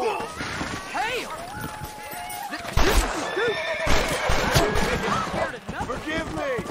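A horse in the Western video game Red Dead Redemption whinnies loudly and repeatedly, with hooves clopping close by, under the game's music and effects.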